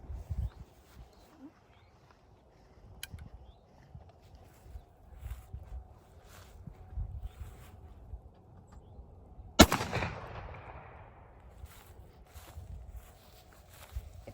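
A single-shot 20 gauge Henry shotgun fires once at an outdoor target, one sharp loud blast midway with a rolling echo tail, amid quiet shuffling and handling noises before and after.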